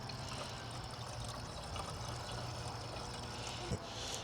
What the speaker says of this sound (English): So I'm gonna fill this back up with distilled water